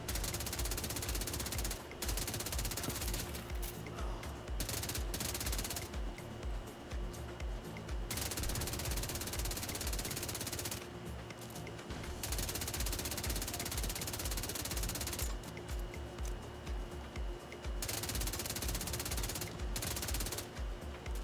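Suppressed assault rifle fire in The Division 2, long muffled automatic bursts repeating in steady runs with short pauses between, loud and close.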